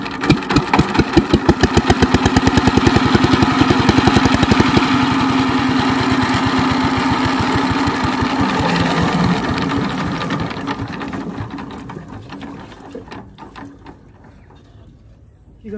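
A water pump machine engine starts and runs with a loud, rapid, even chugging that holds steady, then fades and slows toward the end as it winds down.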